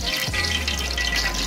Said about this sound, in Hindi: इसका पानी सारा निकालेंगे इसके अंदर से,